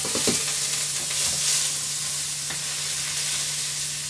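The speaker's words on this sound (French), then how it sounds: "j'ai mis de l'huile un peu dans la casserole, j'ai mis des oignons" Steady sizzling of onions frying in oil in a pan, with a few stirring scrapes and clinks early on; no talking.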